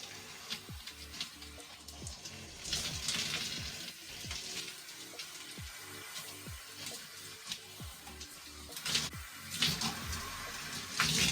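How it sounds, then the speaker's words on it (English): Water runs and splashes while purple shampoo is rinsed out of bleached hair, a steady close hiss of flowing water broken by irregular wet splatters and drips. "When all the shampoo is rinsed out"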